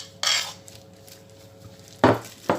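A utensil scrapes honey and soy sauce from the bottom of a dish in three short, close, clattering strokes with quiet gaps between them.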